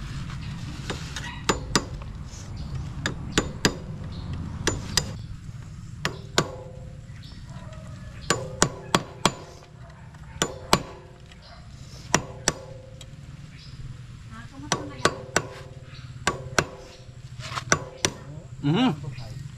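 A hammer strikes metal in sharp, irregular clanks and taps while a large nail is pried out of a motorcycle, with a low background rumble and occasional quiet voices between the blows.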